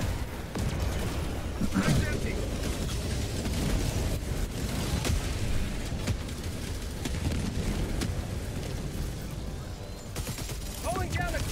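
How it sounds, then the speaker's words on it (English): Dense, continuous explosions and gunfire from the video game Helldivers 2 form a loud, chaotic battle din with overlapping blasts and crackling shots throughout. "One of the explosions knocked me off."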